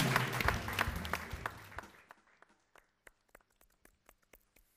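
A television studio audience applauds loudly at first, then the clapping thins out and fades, leaving a few scattered, isolated claps trailing off near the end.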